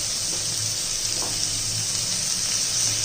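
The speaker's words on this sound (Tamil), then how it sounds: "இதை ஃபுல்லாக நல்லா வதக்கிட்டுருவோம்." Onion and green chili sautéing in a pan for a high-protein gravy, a steady bright sizzle running unbroken throughout with a faint low hum beneath.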